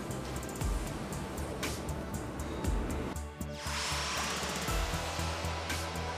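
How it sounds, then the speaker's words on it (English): Roller seam welding of stainless steel sheet with electrode-equipped rollers in a kitchen countertop factory: a steady, loud electrical buzz and hiss with a rhythmic hum that shifts pitch midway, with no talking. "using electrode-equipped rollers for welding, they proceed with the utmost concentration"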